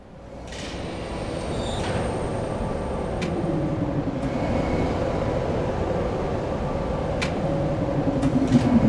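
Tram pulling into a station in the puzzle adventure game Riven, a steady rumbling mechanical roar that builds and holds, with occasional metallic clanks and a rising whine near the end.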